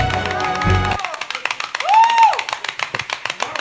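Studio audience at a televised interview applauding, with a brief voice at the start giving way to a run of crisp, steady clapping that thins toward the end.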